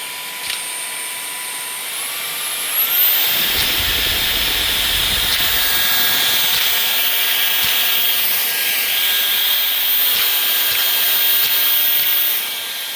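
An ElecKeys 650W cordless vacuum cleaner spins up with a rising whine, then runs with a steady airy hiss and motor drone before cutting off near the end. No talking.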